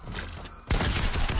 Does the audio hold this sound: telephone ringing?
no